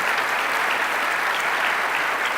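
A crowd at the COP28 Local Climate Action Summit applauds, a loud, dense and continuous wash of clapping that holds steady throughout, with no speech over it.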